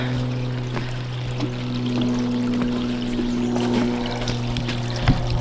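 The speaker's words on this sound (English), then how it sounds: "And there's water on this side coming out." Water flows and trickles steadily beneath a tiny footbridge on a hiking trail over a low, constant hum, with a few soft splashes and knocks mixed in.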